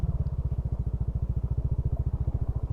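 A motorcycle carrying a bag rides a very narrow, landslide-prone mountain road in Laua-an, Antique, with rapid, steady engine thumps pulsing close up for the whole stretch and no talking.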